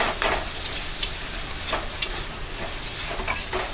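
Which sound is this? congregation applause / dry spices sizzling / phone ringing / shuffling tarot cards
dry spices sizzling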